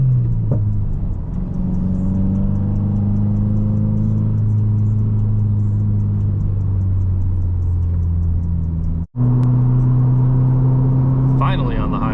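A manual Subaru WRX VB cruises on the highway with a steady, droning engine hum and road rumble whose pitch slowly climbs, then cuts out for a moment at a gear change before resuming.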